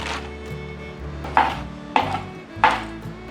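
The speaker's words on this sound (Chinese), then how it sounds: "把红喜菇切成小丁" Red shimeji mushrooms are diced on a cutting board with three sharp knife chops in slow succession over a faint kitchen hum, close and clear, with no voices.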